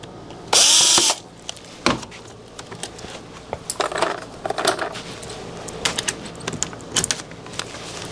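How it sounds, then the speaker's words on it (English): A drill turns a screw extractor in a broken door lock screw: one loud whirring burst, then scattered clicks, scrapes and short grinding bursts from the tool and lock, up close with no talk. "I'll put a link to the screw extractor set that I'm using here."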